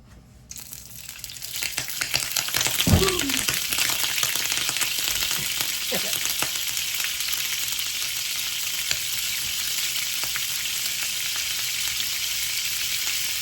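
A tomahawk ribeye steak hits hot vegetable oil and butter in a pan, setting off a loud, close, continuous hiss with scattered pops that holds steady throughout. No one speaks.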